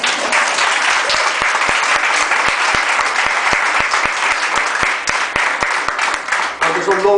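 A church congregation applauding during a Spanish-language service, loud continuous clapping with a few distinct sharp claps standing out rhythmically, and a voice at the end.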